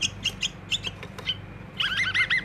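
Bulbuls or babblers chirp while feeding chicks, giving a series of sharp, close tweets at first, then a busy cluster of rapid higher calls near the end over a steady low background hum.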